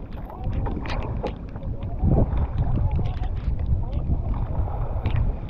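A boat rocks on big waves in strong wind off Punta Puigo during stormy weather. Gusty wind noise and sloshing water run continuously at close range, with occasional thumps.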